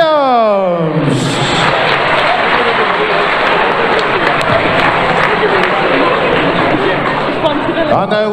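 Loud, dense crowd noise fills the hall for a Welsh Classic 2021 final finalist, a sustained roar of applause and cheering with steady intensity throughout, a brief sweeping tone at the start.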